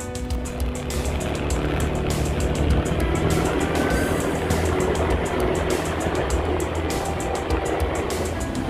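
A motorcycle being ridden along city streets, its engine drone and wind rumble steady and close throughout, with no talking.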